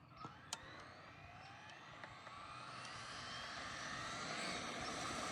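A Traxxas XO-1 RC car fitted with a 20-tooth pinion makes a high-speed pass, its whine rising steadily in pitch and loudness as it approaches from a distance, with a few faint clicks early on.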